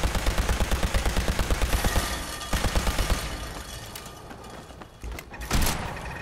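An automatic laser rifle fires in the Fallout 4 video game, with a rapid, evenly spaced burst of loud zapping shots for about two seconds, a second shorter burst, then fading impacts and a couple of heavier hits near the end.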